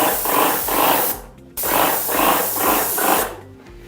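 A Wagner Control 150M paint sprayer hisses in repeated bursts as the gun is triggered through strokes, loud and close, with a brief silent pause midway.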